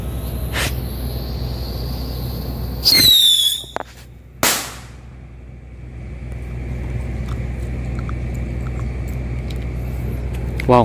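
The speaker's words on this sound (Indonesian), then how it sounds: "Siap meluncurkan petasan luncurnya." A winged rocket firecracker launches outdoors with a brief rising whistle and a sharp, loud crack, then fades into steady ambient hiss.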